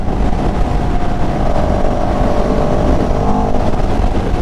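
A CFMOTO CLX700 motorcycle in sport mode runs with a loud, continuous engine roar that stays close and steady throughout, with rough wind noise over it.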